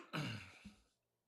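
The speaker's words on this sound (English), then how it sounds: "Clear your throat." A man clears his throat once, a short rough rasp followed by a smaller second catch, close and brief in a quiet room.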